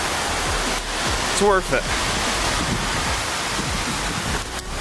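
Steady broadband rush of a hard-running waterfall reached after a difficult, slippery approach, loud and continuous throughout, with a person speaking briefly over it.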